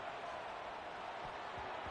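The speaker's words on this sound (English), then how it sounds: "this crowd is fired up. Listen to this noise here." Stadium crowd noise from a college football video game, USC at Ohio State, a steady dense roar filling the whole stretch at moderate level with no clear peaks, continuous and unbroken throughout.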